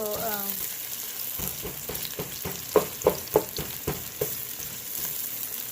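Garlic and onions fry in a pan with a continuous sizzle, overlaid by a run of regular scraping stirs and taps that swell midway and then fade, with no talking.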